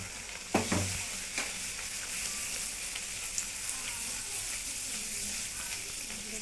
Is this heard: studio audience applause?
no